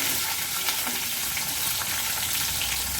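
Garlic cloves and whole small shallots sizzle steadily in hot oil, a continuous dense frying hiss with faint stirring clicks and no voices.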